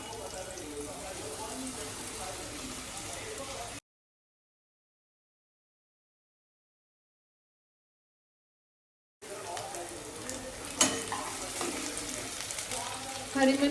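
Potatoes and patal (pointed gourd) frying in a pan, a steady broadband sizzle with small crackles that cuts out for several seconds, then returns louder with a few sharp pops and clinks.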